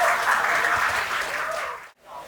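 Audience applause welcoming a rapper onto a poetry stage, a dense, steady clatter of many hands that cuts off abruptly near the end before faint sound resumes.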